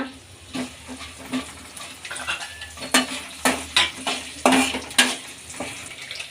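Peanuts frying in hot oil in a pan for mint rice, a bright sizzle broken by a run of sharp spatula scrapes and clinks that grow louder and more frequent, no speech.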